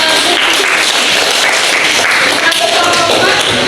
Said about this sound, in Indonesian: Tepuk tangan untuk nomor 3.